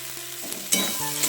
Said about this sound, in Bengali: দিয়ে আমি মশলাটা ভালো করে কষিয়ে নেব।